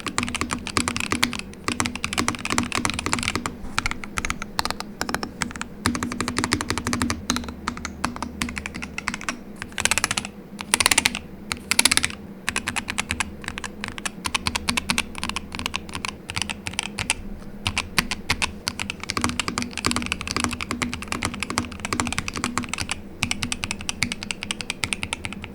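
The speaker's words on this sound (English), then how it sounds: "sort of a lighter, clacky sound coming from the keycaps there" Fast continuous typing on an Epomaker Magcore65 Lite R induction keyboard, light clacky keycaps, close and clear with rapid even keystrokes and brief pauses.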